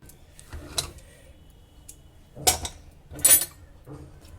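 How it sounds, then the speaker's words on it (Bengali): A pressure cooker lid is opened after cooking jackfruit, with a handful of sharp metallic clinks and scrapes scattered over a few seconds, close and fairly quiet between them. "কুকারের ঢাকা খুলে নিয়েছি"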